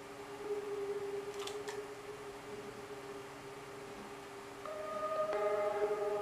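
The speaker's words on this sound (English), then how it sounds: "It's kind of like an ambient sound." A soft, sustained ambient synth pad drones with airy hiss and held tones, swelling slightly near the end, quiet and atmospheric.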